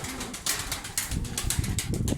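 Performance pigeons cooing inside a coop in Ankara, soft repeated coos close by with rustling and scattered knocks, fairly quiet.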